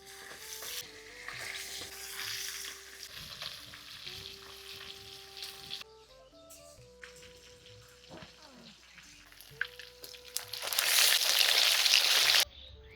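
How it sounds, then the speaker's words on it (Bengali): Fish frying in hot mustard oil in a kadai over a wood-fired stove, bubbling and sizzling with scattered stirring and clinks, swelling into a loud, dense hiss near the end. "মাছগুলো এখন ছেড়ে দিচ্ছি"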